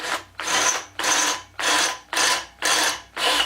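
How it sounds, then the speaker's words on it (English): Drill with a larger bit tapering a screw hole while installing a rustic barn sliding door: seven separate grinding bursts, each about a third of a second long, evenly spaced at a steady rhythm and close to the microphone. "I'm going to get a bigger bit and taper that hole"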